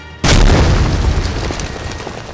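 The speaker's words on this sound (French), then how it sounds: "Il fut accueilli en plein vol par un rocher qui le fracassa à terre dans une explosion de débris." A heavy boom hits abruptly, then a dense rumbling roar of scattering debris carries on loud and close, as a rock smashes a plant monster into the ground during a sandstorm.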